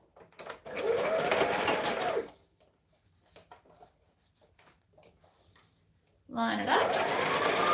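A sewing machine stitches fabric strips for scrunchies in two loud motor bursts separated by a quiet pause, with a person speaking briefly between runs.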